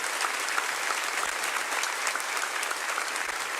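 Steady, dense applause from a large church congregation, sustained evenly throughout without pause.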